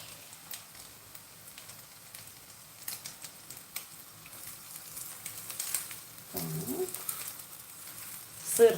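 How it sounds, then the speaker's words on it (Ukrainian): Soft, steady sizzling of filled pies frying in a pan, with faint clicks and crackles throughout and a few louder pops toward the end. "І будемо зараз смажити цю всю смакоту."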